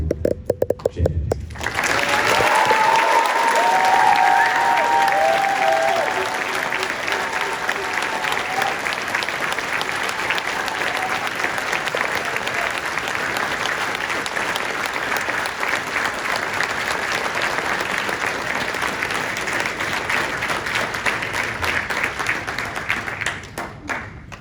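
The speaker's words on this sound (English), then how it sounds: "why don't we give a huge round of applause to our gold champions" A crowd applauds the Golden Demon gold champions at an AdeptiCon award ceremony, sustained loud clapping from a large room that starts sharply and holds steady for over twenty seconds, with faint tones or music underneath at the start.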